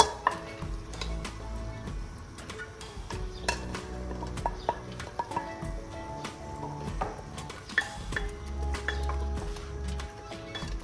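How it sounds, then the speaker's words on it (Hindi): Masala with turmeric frying and being stirred in a pan for a Punjabi-style aloo matar curry, a steady close sizzle with repeated scrapes and clinks of a spoon against the metal. "मसाला चंगी तरह भुन हो रहा है।"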